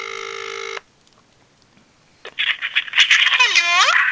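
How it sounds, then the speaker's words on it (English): A phone on speakerphone plays a steady dial tone, then goes quiet before a burst of ringing and warbling tones with a descending electronic sweep, loud and close. "So let's call Sophie and see what she thinks about this. I'm gonna put it on speaker for you"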